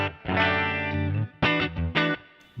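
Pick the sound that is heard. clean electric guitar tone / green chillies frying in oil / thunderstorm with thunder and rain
clean electric guitar tone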